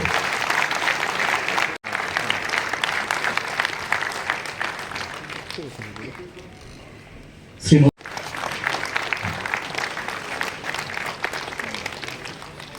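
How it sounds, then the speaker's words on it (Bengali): Sustained crowd applause at a government award ceremony where officials receive job offer letters on stage, loud and steady for most of the stretch, briefly dipping near the middle before surging again. "আরো একটু জোরে করতালি আশা করব"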